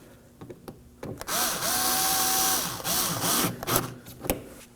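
Bolts on a 2014-2020 Acura MDX AC condenser are snugged with a power driver, giving a few taps followed by two bursts of whirring drill noise and some clicks near the end.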